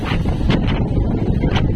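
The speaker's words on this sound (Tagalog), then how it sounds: "Malakas na alon, malakas na hangin." Strong wind at sea buffets the microphone in a constant roar, with a few brief hissing surges of spray or breaking waves, in a small boat on rough water.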